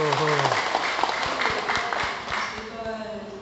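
A gathering at a Buddhist hall class gives a round of applause that starts out mixed with a voice and cheering and then thins to scattered claps.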